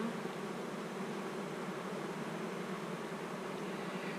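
Honey bees drone steadily at an open hive, a dense, continuous buzz of many insects close by with no pauses and no talking.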